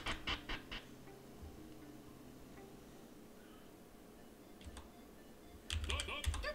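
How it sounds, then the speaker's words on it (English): Someone typing on a misbehaving computer keyboard: a quick burst of close clicks at the start, then a quiet stretch with faint sounds, and another cluster of keystrokes near the end. "My keyboard's acting up right now."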